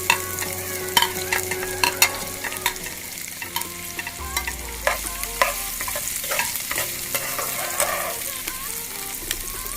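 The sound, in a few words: chopped onions frying and being stirred in a pan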